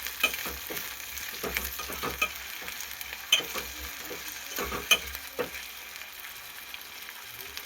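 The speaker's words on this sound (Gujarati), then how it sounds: "પછી એમાં આપણે ટીંડોરા નાખી દઈએ. પછી એને મિક્સ કરી લેવાનું આ રીતનું." Ivy gourd (tindora) sizzles and fries in oil with mustard and cumin seeds while being stirred, a steady close crackle broken by scraping stirs.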